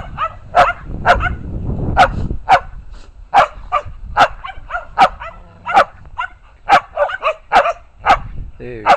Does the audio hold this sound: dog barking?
yes